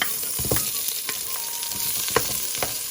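Onions frying in hot oil give a constant, close hiss and crackle, broken by a few scraping stir strokes, with no voices.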